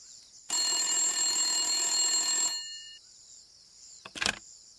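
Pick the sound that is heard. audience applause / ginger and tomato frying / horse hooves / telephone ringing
telephone ringing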